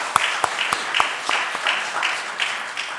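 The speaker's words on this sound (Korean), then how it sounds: "우리 감사의 박수를 한번 보내주시면 감사합니다." A church congregation applauding during a Sunday service, with steady dense clapping throughout and sharper individual claps standing out near the front.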